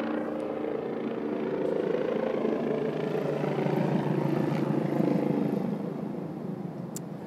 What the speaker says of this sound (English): That was a medical chopper.